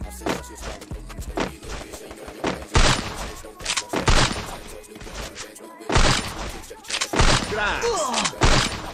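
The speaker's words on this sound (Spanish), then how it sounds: "Estoy pegando muchos tiros" Rapid bursts of gunfire from a video game, several loud volleys separated by short gaps, with sharp impacts and a quieter stretch in between.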